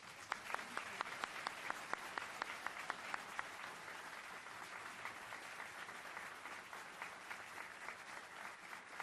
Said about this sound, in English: again welcome with your applause our two candidates for U.S.